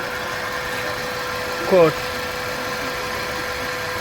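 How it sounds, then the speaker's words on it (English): A 2007 Kia Sportage engine idling with a misfire, a steady low hum and vibration throughout, close up, with a brief burst of a voice in the middle. "There is cylinder 2 and the engine is vibrating."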